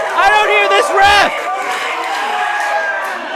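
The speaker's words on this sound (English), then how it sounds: "Listen to this crowd. They're coming alive" A wrestling crowd at a live event roars and cheers loudly, building in a dense sustained swell of many voices, with shouting voices riding over the din.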